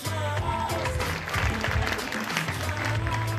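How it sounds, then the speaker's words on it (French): Audience applause at a youth awards ceremony, a busy wash of clapping mixed with a low sustained musical tone underneath, fairly close and continuous throughout. "Margot Lundberg, qu'on peut applaudir une nouvelle fois."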